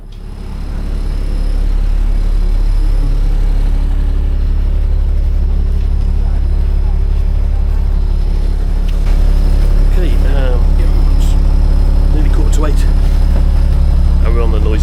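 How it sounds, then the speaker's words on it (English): Inside a noisy transfer bus taking a handful of foot passengers to the Irish Ferries ship at Holyhead, a loud, steady engine rumble drones throughout, with faint rattles and brief muffled voices near the end. "And we're on the noisy bus, which will take us on to the ship"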